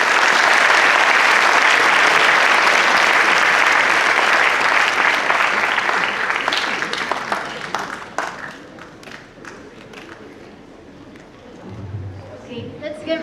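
An audience applauds after a lecture, dense loud clapping filling the room that thins into scattered claps and fades, with a voice speaking briefly at the close.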